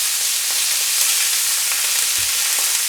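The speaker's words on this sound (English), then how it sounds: "You're just going to get a good sear on it." Meat sears in a hot pan, giving a loud, constant hissing sizzle with no pauses and no voices.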